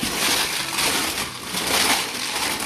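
Aluminium tins crushed and handled in a sensory play tub, producing a steady, harsh metallic crunching and rattling close by, loud and unbroken for a few seconds without any voices.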